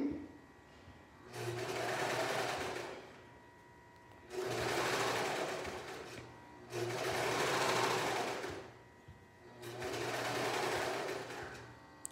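A serger sewing machine stitches fabric in four bursts of steady mechanical whirring, each lasting about two seconds, with short quiet gaps between them while the fabric is repositioned.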